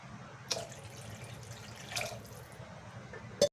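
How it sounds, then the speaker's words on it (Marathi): Water is poured into cooked spicy masala for Nagpur-style kat vada curry, giving a faint, splashy trickle with a few brief louder splashes and a sharp clink at the end. "याच्यामध्ये टाकून घेणार आहे आता मी पाणी"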